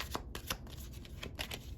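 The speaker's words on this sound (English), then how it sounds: "I gotta make sure I'm shuffling these cards right." Tarot cards are shuffled by hand and tapped against a table, giving a soft, close run of quick riffling clicks and light slaps.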